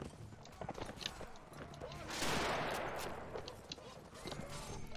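Gunfire in the video game Mount and Blade 1866 battle: scattered distant shots and crackling volleys rolling across a noisy field, a louder burst midway, while someone talks over the fighting.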